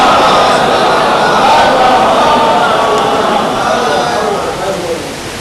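A large crowd at a Jashn-e-Zainab religious gathering roars a slogan in unison, a loud, dense wash of many voices that fades slightly toward the end.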